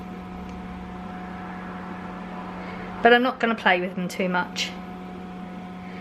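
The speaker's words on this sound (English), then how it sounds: "if you can hear that humming in the background, it's because I have the oven on" A gas oven running at gas mark 6.5 (425°F) gives a steady low hum with a faint constant hiss in a home kitchen, continuous under a person talking partway through.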